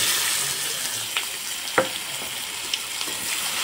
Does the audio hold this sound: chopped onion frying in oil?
yes